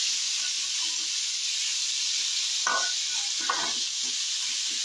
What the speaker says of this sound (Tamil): 2 தக்காளி ஆட் பண்ணி அதுவும் நல்லா வந்து மேஷ் பண்ற அளவு நல்லா வதக்கணும்